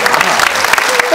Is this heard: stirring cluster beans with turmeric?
no